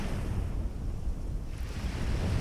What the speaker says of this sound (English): Look out across the waves.